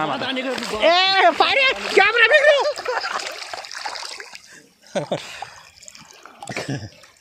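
River water splashes and sloshes as someone swims in it on a hot day, with irregular splashes near the microphone. People talk and call out over the water throughout.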